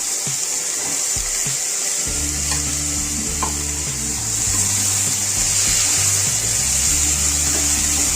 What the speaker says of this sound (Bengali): এবার সবজিগুলোকে ভেজে নেব। পটল, কুমড়ো, আলু,